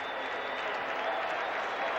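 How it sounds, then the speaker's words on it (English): A football stadium crowd at a 49ers versus Falcons game cheers and applauds in a dense, steady roar, heard far off and continuous. "Crowd has suddenly come alive here in the latter stages of the third period."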